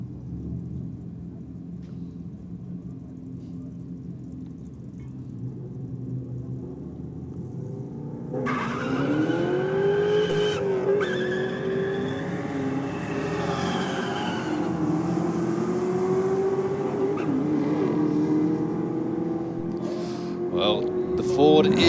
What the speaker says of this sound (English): Ford is on the chase and goes past the Commodore.